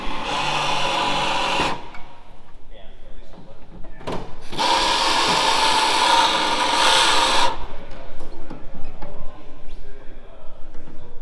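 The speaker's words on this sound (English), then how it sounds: "See, Joey appears to be drilling out some screws and rivets" A power drill drilling out screws and rivets whirs in two loud bursts separated by quieter clatter and handling noise, then rattling and tapping of metal parts follows.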